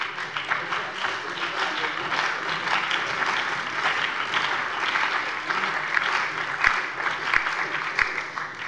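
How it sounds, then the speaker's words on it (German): Sustained applause fills a German parliament plenary session, a dense steady wash of clapping from across the chamber, loud and even throughout with a few sharper claps standing out near the end. "sehe mit Vergnügen Beifall im gesamten Haus"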